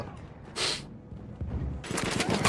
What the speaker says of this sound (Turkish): Bomba attılar.